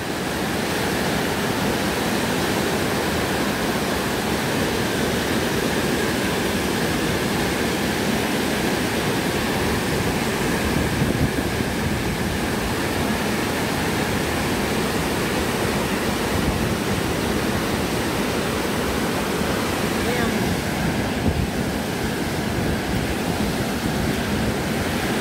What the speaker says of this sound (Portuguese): As águas do Rio Tietê.